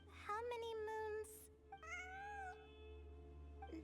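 Cat meowing in the video game Genshin Impact during a Sumeru event, a run of several clear, drawn-out meows near the listener followed by a fading tone, with no talk over them.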